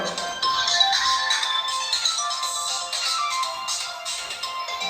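A telephone rings steadily and fairly loudly with a bright, warbling electronic tone that goes on without pause.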